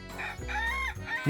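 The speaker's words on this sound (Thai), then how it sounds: "ไก่มีเสียงดังมาก" A rooster crows loudly and close, one full cock-a-doodle-doo call with a rising, strained final note at the end.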